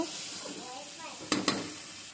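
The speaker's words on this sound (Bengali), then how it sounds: "এখন আমি জিরে আর তেজপাতা দিয়ে দিয়েছি, কিছু কাঁচা লঙ্কা দিয়ে দেবো" Cumin seeds, bay leaf and green chilies frying in hot oil for a thin bhetki fish curry with black cumin paste, a steady soft sizzle with two sharp louder crackles near the end.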